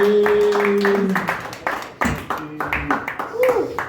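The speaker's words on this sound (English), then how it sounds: "Clap it up for Maggie." Scattered clapping from a small comedy show crowd, loud and close, with voices talking and calling out over it.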